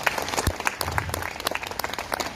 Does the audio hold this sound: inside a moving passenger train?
no